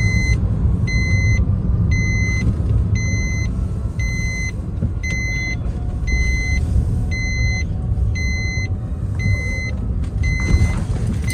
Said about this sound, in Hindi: जैसे कि अब मैं इस जगह पर चल रहा हूँ, मिनट मिनट में तो भाई गियर ऊपर नीचे करना पड़ रहा है